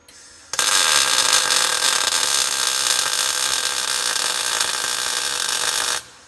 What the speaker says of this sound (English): Now I'm gonna put a couple tacks in it and recheck it, make sure nothing moved.